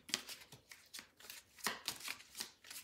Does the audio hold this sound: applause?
no